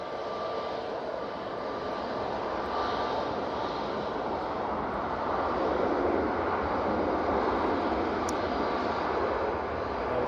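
Canadian C-130 Hercules turboprop rolling out after landing at Manchester Airport during stormy Storm Amy weather: a steady, loud broadband engine roar and wind rush held evenly throughout, with no voices.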